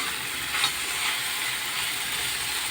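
Leafy greens fry in a black iron wok, giving a steady, hissing sizzle with faint scraping stirs, close and continuous with no talk over it.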